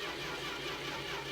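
A car engine runs in the My Winter Car video game, a steady mid-pitched droning hum that stays at an even, fairly quiet level throughout with no talk.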